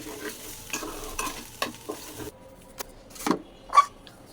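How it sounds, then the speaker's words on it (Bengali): Rice fried and stirred in a pot for village-style pulao, with a spoon scraping in intermittent soft strokes over a faint background sizzle, fairly quiet and without talk. "এখন ভাবি চাউলগুলো খুব সুন্দর করে ভেজে নেবে"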